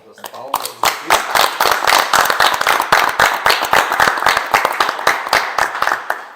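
Audience applause closing a medical association event celebrating fifty years of pediatrics, a dense burst of many hands clapping steadily and loudly for several seconds.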